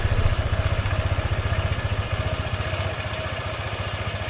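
A motorcycle engine with a worrying noise that needs checking idles with a steady, rapid pulsing chug, close and fairly loud, running evenly throughout with no voices.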